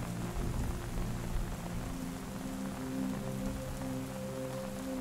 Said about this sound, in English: tapping of the rain on the material now creates a soothing sound.